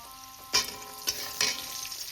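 Pointed gourd dropped into hot oil with other vegetables, giving a close, crackling sizzle that flares up in a few sharp bursts and then keeps frying steadily.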